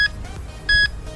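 Alarm remote of a VMP S2X GreenLine electric motorbike giving two short electronic beeps, a brief chirp followed by a longer tone, over low background hum.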